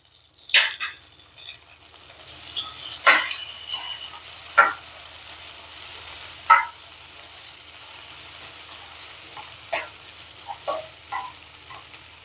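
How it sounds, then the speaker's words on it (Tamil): Fennel seeds, cumin and green peas sautéing in a pan, a soft steady sizzle broken by several sharp clinks and scrapes of a spoon stirring against the pan. "சோம்பு சீரகம் எல்லாமே நல்லா வதங்கிடுச்சு பட்டாணியோட சேர்ந்து."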